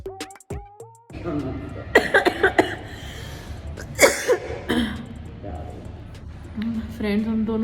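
A person coughing repeatedly at close range, several harsh bursts with throat clearing between them, mixed with voices talking nearby.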